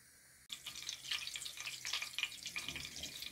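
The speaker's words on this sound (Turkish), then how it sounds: "3 yemek kaşığı kadar sıvı yağ koydum tavaya. Yarım kaşık tereyağı koyuyorum." Half a spoon of butter hits about three tablespoons of hot oil in a pan, bursting into a sudden close sizzle that keeps crackling and spitting steadily, with no talking.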